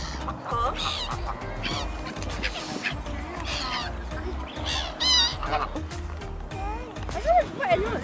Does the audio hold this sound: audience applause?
no